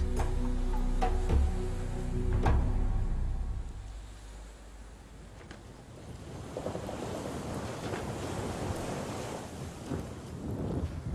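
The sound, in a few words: sea waves while sailing towards Zanzibar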